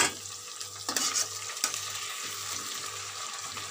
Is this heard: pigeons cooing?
no